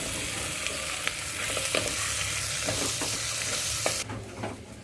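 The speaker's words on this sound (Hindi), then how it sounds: "अब मीडियम फ्लेम पे 2 से 3 मिनट तक भुनेंगे इसे" Sliced onions sauté in a pan over a medium flame, a steady loud sizzle broken by scraping stirs, with the frying briefly quietening near the end.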